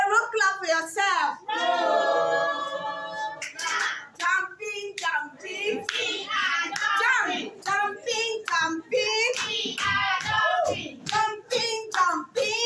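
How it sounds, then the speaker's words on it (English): Children at a school seminar give a roll clap for themselves, quick patters of hand claps mixed in among an adult's talk and the kids' voices. The claps are close and come in short bursts. "A roll clap for yourself."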